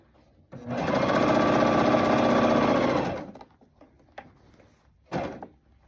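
A sewing machine stitches bulky jumpsuit fabric in one continuous loud whirring burst of about two and a half seconds, followed by a few faint clicks and a short second burst of stitching.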